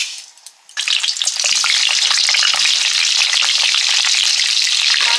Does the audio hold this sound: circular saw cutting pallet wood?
no